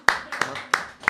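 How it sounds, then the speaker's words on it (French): A few people clapping in a small radio studio, four separate sharp claps spaced unevenly over about a second, close and fairly loud. "on peut quand même applaudir"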